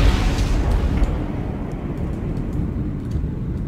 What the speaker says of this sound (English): Okay, I guess we might as well fire our missiles.